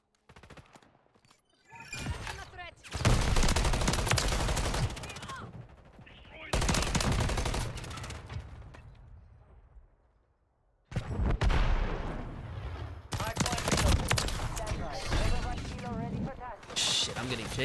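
Bursts of rapid automatic gunfire in Modern Warfare 3 multiplayer, loud clustered volleys separated by brief pauses, with a player talking over the action.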